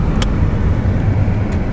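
A Volkswagen car accelerating, heard from inside as a loud, steady low engine and road rumble that holds through the short stretch, with no talk.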